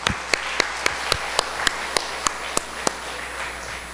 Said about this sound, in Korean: 우리 청년들 박수 한번 해주세요.